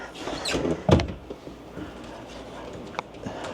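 A door at a luxury resort villa in Antigua is opened, giving a sharp knock-like clunk near the middle followed by softer rattles and small taps in a quiet room.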